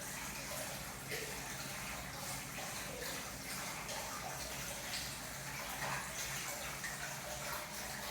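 Natural hot spring water pours steadily into a ryokan bath in Mikuni, Fukui, a constant soft rushing gush that fills the whole stretch at low volume with no break.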